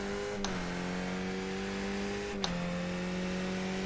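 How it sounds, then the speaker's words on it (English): Skip Barber race car lapping the Circuit of the Americas in third gear, engine braking off throttle: a steady buzzing engine drone heard from onboard, with two sharp clunks of gear or throttle changes about two seconds apart. "A lot more engine braking."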